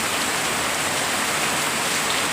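Heavy monsoon rain pouring down in a village, a dense, constant roar of water striking surfaces, loud and close with no pauses.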